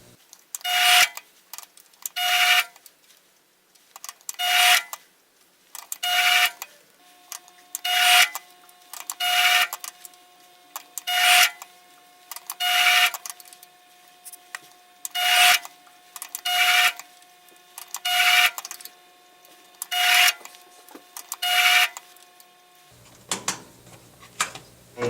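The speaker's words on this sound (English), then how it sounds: "So I'm down to 3 thou of advance each cut because the lathe is pretty much at its limit." A lathe takes very fine cuts while machining a custom worm, producing a series of about a dozen evenly spaced rasping scrapes roughly two seconds apart, each a short burst with quiet gaps between, ending in a low mechanical hum.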